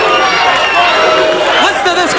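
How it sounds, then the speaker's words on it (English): A capacity crowd at a wrestling show chanting for the Bruiser, a large loud hall of roaring, rhythmic voices under an excited announcer's commentary. "Listen to this capacity crowd, Terry. They're getting into it now, baby. They're chanting the Bruiser."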